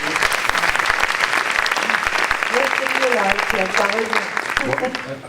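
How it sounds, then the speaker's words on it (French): Steady applause from an audience fills the clip, dense clapping throughout with a faint murmur of voices underneath, tapering slightly at the end. "Donc on peut l'applaudir."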